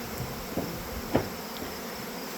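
Faint, steady buzzing of honeybees hums in the background around hive boxes, with a few soft thumps and brief louder buzzes passing close.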